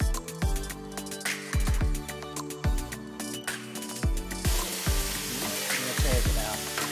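Grease and beef fat sizzle on a Blackstone griddle while cheeseburger crunchwraps cook, a steady close crackle broken by scraping and clanking of a metal spatula, growing brighter near the end.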